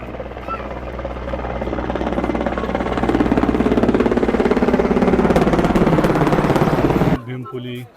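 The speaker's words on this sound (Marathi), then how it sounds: "हेलिकॉप्टर" A helicopter's rotor thrums in a loud, steady whir at the Badrinath helipad in the Himalayas, growing stronger midway, then cutting off abruptly as a voice briefly speaks.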